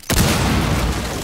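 Breach into a room in the video game Rainbow Six Siege, a single loud, close blast that fills the whole clip with a sustained roaring boom and no speech.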